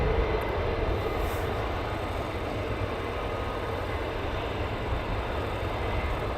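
An aircraft approaching runway 24 at RAF Mildenhall produces a distant, steady low engine rumble that holds evenly throughout, faint and broad with no voices.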